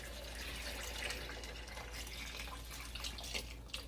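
A stream of water splashes into a stew pot, a steady, close rushing pour with some sloshing, heard alone without talking.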